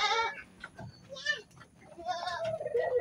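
Goats bleat at a livestock market: several wavering, nasal cries come close and loud in quick succession, with a person's voice talking low alongside.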